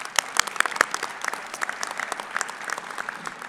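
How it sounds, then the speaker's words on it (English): Scattered applause from a modest audience at a fall university convocation ceremony, sparse individual claps with uneven rhythm, fairly quiet and continuing steadily for a few seconds without voices. "Let's give her a round of applause."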